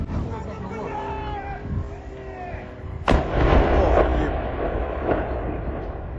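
A drone strike on a factory complex sets off one sudden heavy explosion that booms and then rumbles on, with crowd noise and other sounds beneath it.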